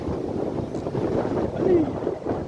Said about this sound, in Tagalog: Mahangin ng panahon